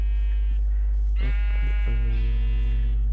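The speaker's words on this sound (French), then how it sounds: "il y a des moutons partout" Sheep bleat in a blocky Minecraft-style island game, several wavering calls coming close together and overlapping, loud and clear with no talking.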